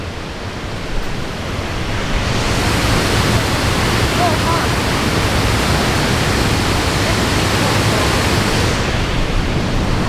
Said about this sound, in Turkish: Ama şelale büyük.